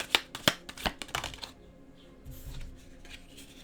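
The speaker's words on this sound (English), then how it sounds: "These are so hard to shuffle." Stiff playing cards are shuffled up close: a quick run of crisp clicks and riffles at first, then a softer, quieter shuffling with no talk.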